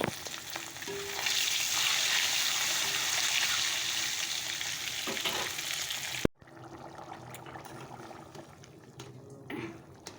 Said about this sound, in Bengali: ডিমটা ভাজা হচ্ছে